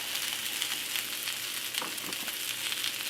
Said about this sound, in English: And we're just going to cook this down for several minutes, constantly stirring.